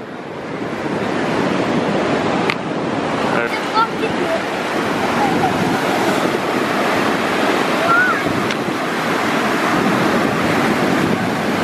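Ocean waves roar and crash steadily nearby on a beach, with wind buffeting the microphone throughout.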